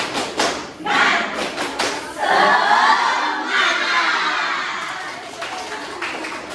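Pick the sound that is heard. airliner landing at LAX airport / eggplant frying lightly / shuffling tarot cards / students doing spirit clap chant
students doing spirit clap chant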